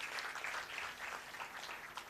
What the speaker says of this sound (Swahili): Kwa hivyo jipigieni sana makofi